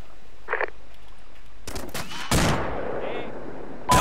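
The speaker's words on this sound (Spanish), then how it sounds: "Disparos." Gunfire in the military shooter Arma 2: a faint distant crack, then a burst of rapid shots and a loud heavy report with a rolling tail, followed by another sharp shot at the end.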